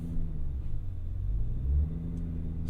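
A 2024 Cadillac Escalade V's engine gives off a deep, steady low rumble from inside the cabin, rising slightly midway, with no talking.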